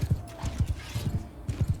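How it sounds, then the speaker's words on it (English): Horse hooves clip-clop in quick irregular bursts as a mounted bandit rides off in the Mount & Blade II: Bannerlord video game, moderately loud and fairly close, with faint mechanical background noise. "I think the guy with the horse left."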